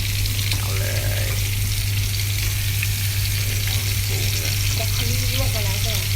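Miyazaki wagyu steak sizzles loudly and steadily in a frying pan, a dense close crackle with a low hum underneath and faint voices mixed in.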